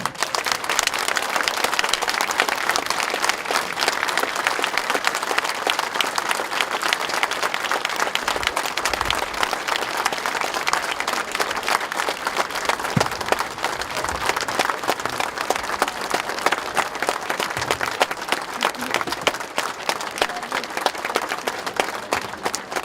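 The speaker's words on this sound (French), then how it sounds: "Alors tous ensemble, applaudissons vers Dieu pour qu'il soit là." Sustained loud applause from a large crowd at a church gathering, dense continuous clapping with no pauses, steady throughout.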